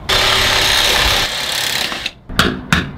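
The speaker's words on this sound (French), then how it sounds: "Petite scie sauteuse à batterie 18 volts, ça va très bien." An 18-volt cordless jigsaw cutting wood for a terrace buzzes loudly for about two seconds, then stops, followed by a few short bursts of cutting noise.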